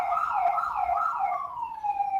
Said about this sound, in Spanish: Pasa una ambulancia.